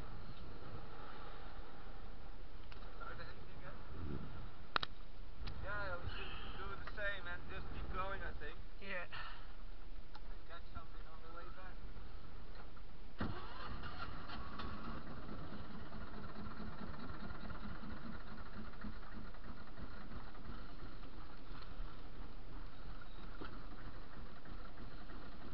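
Motorboat engine running steadily on the water during mackerel fishing, a continuous mid-pitched drone throughout with people talking over it early on.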